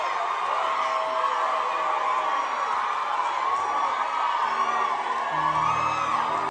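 A church crowd in Kenya cheers and whoops with excitement, a continuous wash of high shouts and yells that stays loud and dense from start to end.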